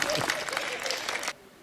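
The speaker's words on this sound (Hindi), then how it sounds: "जरा जोरदार तालियां" A poetry recital audience claps in a dense burst of applause lasting just over a second, then cuts off abruptly into quiet.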